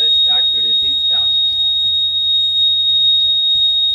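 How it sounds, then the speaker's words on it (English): Buzzer on a school science-exhibition water level indicator, triggered when a float-driven screw closes the contact: a steady, continuous high electronic tone sounding throughout, close and loud, while a person talks over it. "The screw attached to the piston touches another screw and the buzzer starts producing sound."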